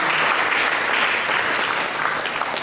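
A church congregation gives steady, dense applause at a worship service, loud and even throughout with no speech over it.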